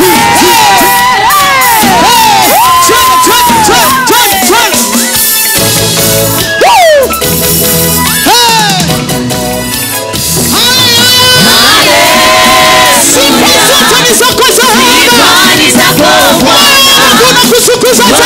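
A church crowd at a live choir service cheers and shouts in praise, loud and sustained with whoops and high voices over music throughout.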